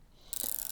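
The clockwork motor of a Soviet rangefinder camera is wound, giving a short, close burst of dense ratcheting clicks that starts suddenly after a brief quiet moment.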